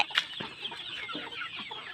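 Chickens cluck and squabble as they peck at chopped banana stalk, with several short close calls scattered across the moment and a brief louder squawk near the start.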